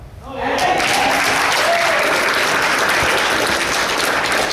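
Audience applause at a community redevelopment meeting in Raleigh Springs, swelling quickly into loud sustained clapping and cheering that holds steady for several seconds.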